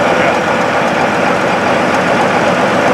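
A John Deere 9420R tractor engine runs steadily and loudly, a constant broadband drone with low rumble filling the whole stretch without pause.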